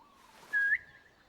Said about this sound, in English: You can whistle to kind of draw him near.